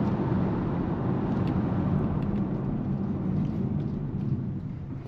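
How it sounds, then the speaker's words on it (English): Road and tire roar from a Mazda CX-50 under hard braking, a steady, dense rumble that holds loud throughout and eases slightly at the end. "So I'm going to do some hard braking right here."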